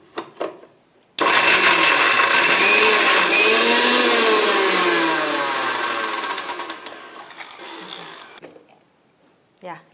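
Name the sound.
mixer grinder grinding garlic paste for fish fry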